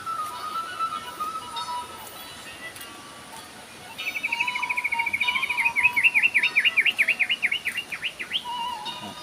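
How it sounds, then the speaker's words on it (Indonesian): Birds singing in the rural West Java countryside near rice fields, a high repeated warbling trill rising and looping for several seconds over a soft steady insect hum, with no talk. "di sini suara burung masih terdengar"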